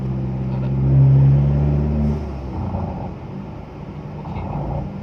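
A car driven at ordinary speed gives a low engine hum that swells briefly around one second, then settles into a steady, moderate rumble heard close up from inside the cabin.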